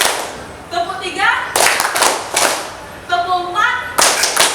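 A classroom group claps together in a counted rhythm, crisp bright bursts of applause arriving in short sets, while a teacher's voice leads between them.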